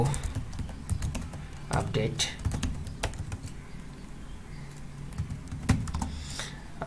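Rapid keyboard typing while code is entered on a computer, steady close clicks and key taps running throughout under someone talking.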